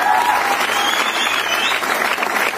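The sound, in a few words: loud audience applause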